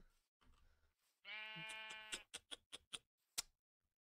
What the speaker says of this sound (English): Oh, look how adorable this sheep is.